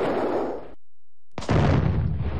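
Dynamite blowing up in the Mad Dog II light-gun shooting game, a loud booming blast that rings out alone and cuts off sharply, followed after a moment of silence by a second heavy rumbling burst.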